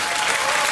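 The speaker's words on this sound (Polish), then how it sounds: "Proszę o ciszę, w sądzie się nie klaszcze." Applause in a comic courtroom scene, a loud, dense burst of clapping from an audience that fills the moment evenly and briefly with no speech.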